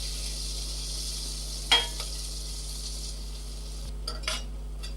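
Ground spice masala goes into hot oil on a low gas flame, giving a soft, steady sizzle under a low hum, with one sharp clink of a utensil and a few faint scraping stirs near the end.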